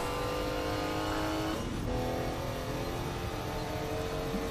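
Group C race cars lap Le Mans in rFactor 2, their engines roaring loudly and continuously, with a close pass-by sweep partway through as several cars run nearly side by side.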